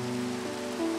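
Rain falls outdoors as a steady wash of light patter, continuous for the whole moment, with a low steady hum running underneath.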